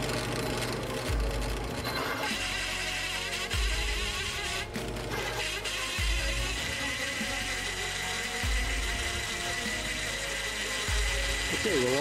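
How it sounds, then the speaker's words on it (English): A drill boring holes through steel for a homemade Bobcat 322 excavator thumb, a continuous loud grinding drone with periodic low knocks and a brief squeal near the end. "Okay, well, all the holes are drilled."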